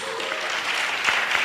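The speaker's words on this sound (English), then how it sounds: "Another amazing round of applause." Steady round of applause from a summit audience at a Nairobi startup event, dense continuous clapping filling the hall at even loudness throughout, with no voices rising above it.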